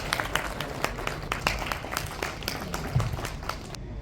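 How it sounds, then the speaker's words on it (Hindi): Enthusiastic applause from a gathered audience at a jayanti honour ceremony, a continuous patter of many hands clapping with distinct sharp claps, moderately loud and unbroken until it cuts off near the end. "एक बार जोरदार तालियां आपके लिए।"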